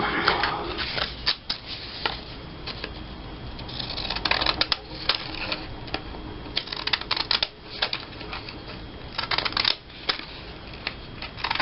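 Repeated crisp snipping and rustling of paper being cut with decorative scissors, uneven bursts of crunchy clicks over a quiet background.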